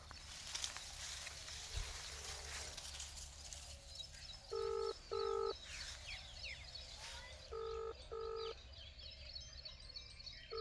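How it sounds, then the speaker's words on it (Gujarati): Tones of a phone number being dialed on a keypad come as two pairs of short, clear beeps over steady outdoor farm noise, with faint bird calls in the background. "પેલા જોગજીને ફોન કરવો હોય તો કરો તરત"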